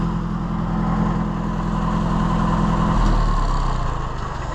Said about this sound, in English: Shut the tractor off.